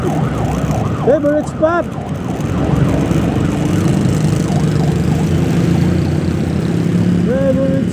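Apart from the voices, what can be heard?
ambulance siren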